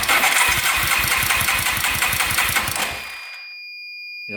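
A street-legal dirt bike engine cranks with the throttle open during a compression test. It gives about a dozen rapid, loud, rhythmic chugs, then stops abruptly, leaving a faint high tone.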